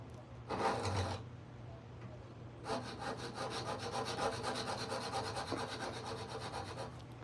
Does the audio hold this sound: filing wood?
yes